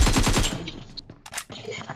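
A quick burst of rapid automatic gunfire in the mobile shooter BGMI, loud and close at the start, followed by scattered fainter game sounds.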